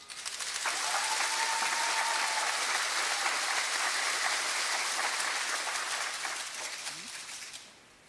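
Sustained crowd applause at a 2022 Teacher of the Year celebration honoring the STEM educator and administrator award winners; dense, steady clapping for about seven seconds before tapering off at the end.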